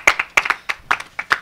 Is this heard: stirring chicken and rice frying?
no